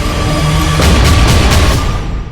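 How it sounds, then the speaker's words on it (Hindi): Artillery and tank explosions from fighting between Israel and Hamas or Hezbollah boom four or five times in quick succession, loud heavy blasts rolling over a continuous low rumble. "पीछे आप लगातार देख सकते हैं तोप और टैंक के धमाके की आवाज आ रही है।"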